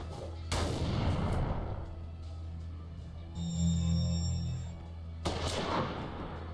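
Explosions from a noise bomb in the video game Hard West, two deep booming blasts several seconds apart with a ringing tonal sound between them, heard close and loud.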